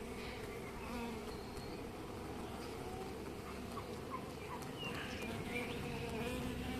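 Carniolan queen bees and worker bees buzz steadily from start to finish, a dense, close, continuous hum with no voices.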